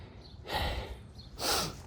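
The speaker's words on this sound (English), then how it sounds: "I'm already sniffling out here in these streets." Two quick nasal sniffs from a runny, allergy-stuffed nose, close and soft, spaced about a second apart with no talking.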